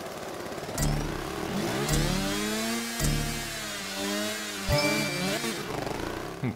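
Ducati motorcycle engine in a racing video game revving hard, its pitch sweeping up and down through repeated gear changes and throttle blips, loud and close throughout.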